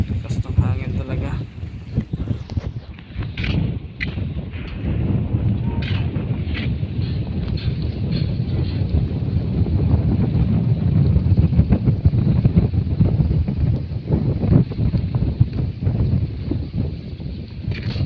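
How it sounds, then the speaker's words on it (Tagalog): Strong wind on a bridge in Dauis, Bohol, roaring and buffeting the microphone with a low, fluctuating rush that keeps up throughout, while a person speaks faintly beneath it. "Lakas ng hangin talaga."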